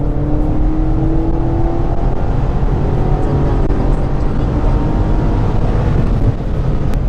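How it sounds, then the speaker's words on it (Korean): A BMW M8 coupe engine drones loudly and continuously from inside the cabin, a low rumble with a faint rising tone as the car accelerates on a light throttle. "지금 가속 페달을 되게 얕게 밟고 가는 중이거든요"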